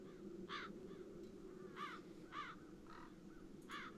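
Crows caw repeatedly in the video game The Dark Eye: Chains of Satinav, several harsh calls at irregular intervals over a steady low ambient hum, fairly clear and mid-distance.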